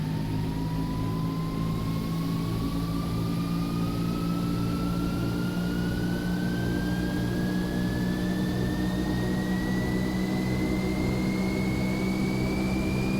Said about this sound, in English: Listen to that old turboprop whine.